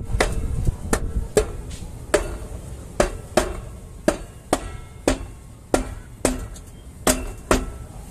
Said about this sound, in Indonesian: Kalau keras bisa dibantu pakai palu karet